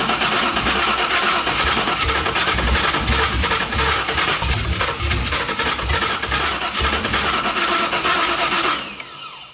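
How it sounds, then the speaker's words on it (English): An LS V8 swapped into a Mazda Miata fires up for the first time off a jumped starter, with a loud, dense, rough idle roaring steadily up close before cutting off abruptly near the end. "So now we're just jumping the starter so that the ignition switch can stay in its position."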